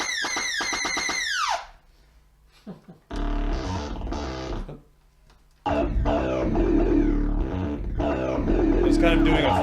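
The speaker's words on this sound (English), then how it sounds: "Second oscillator sounds like this." Second oscillator of a modular synthesizer, shaped by an envelope, plays loud buzzy tones with descending pitch sweeps, broken by short pauses and sharp gated bursts, with brief gaps near silence.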